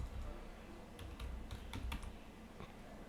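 A command typed on a computer keyboard while configuring a Juniper SRX firewall: a short burst of light, quick key clicks, fairly faint and close, over a low background hum, no voices.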